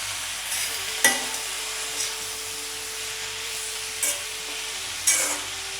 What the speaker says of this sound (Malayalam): നമുക്ക് ഈ പാവയ്ക്ക ഉള്ളിയും കൂടി ഇട്ട് കൊടുക്കാം. ഉപ്പും കൂടി ഇട്ട് കൊടുക്കാം. നമുക്ക് നന്നായിട്ടൊന്ന് വഴറ്റിയെടുക്കണം.